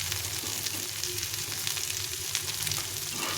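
Chopped tomatoes go into a pan of frying capsicum, and a steady, close sizzle runs continuously with a soft stirring texture and no voices.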